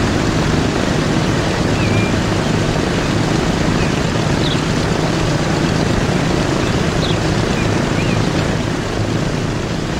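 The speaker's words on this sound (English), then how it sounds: "And here we're now down on the ground, taxiing" Airplane landing and taxiing on a runway in Transport Fever 2, a steady loud engine roar with a broad rushing hiss that holds constant throughout without breaks.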